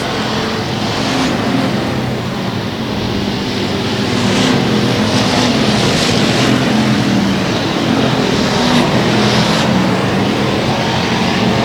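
Race cars roar around the oval at Heart of Texas Speedway on the final lap, a loud, steady engine drone with swelling surges as cars pass close by.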